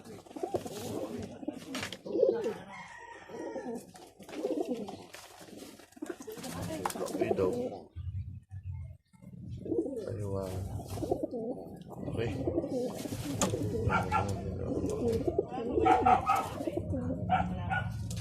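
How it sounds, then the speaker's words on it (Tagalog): Taiwan pigeons in a loft give soft, repeated cooing, with a dog barking briefly and someone talking in the foreground over the birds. "Karamihan po sa kalapati Stitch Taiwan pure."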